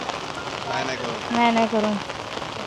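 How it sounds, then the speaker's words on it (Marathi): Heavy monsoon rain falls on a Konkan village, a steady close hiss that continues under people talking. "एक गारठा आणि पाऊस पण थंड आहे ना"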